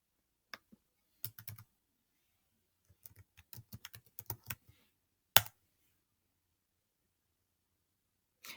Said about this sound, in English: I'm going to have to type out World War I.